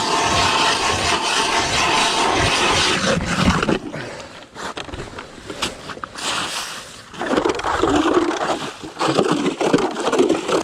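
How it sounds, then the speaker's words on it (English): A hand-cranked manual ice auger grinds and scrapes through frozen lake ice in rough, continuous bursts, close and fairly loud, pausing briefly midway before resuming. "We got the manual auger today, unfortunately."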